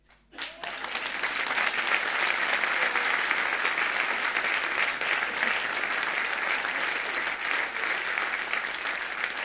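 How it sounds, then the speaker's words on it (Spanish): Sustained applause from a church congregation during a Spanish-language sermon, starting after a brief pause and staying loud and steady throughout, with dense continuous clapping and no talk over it. "un aplauso porque los hermanos duerman"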